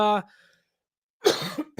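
A single harsh cough bursts out after a short spoken sound and a pause, close to the listener and fairly loud.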